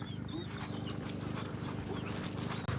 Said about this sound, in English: this dog is so stoked to go